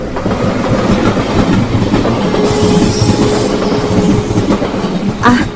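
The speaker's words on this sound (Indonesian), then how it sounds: "Samar-samar aku mendengar suara kereta api dari kejauhan." Train rolling past with a loud, continuous rumble and rhythmic clatter of wheels on rails, plus a faint squeal, heard close with no voices.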